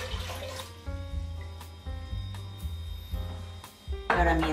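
Two litres of water poured into a cooking pot, a splashing, running stream with tonal ringing from the pot, nearby and moderately quiet, building louder toward the end.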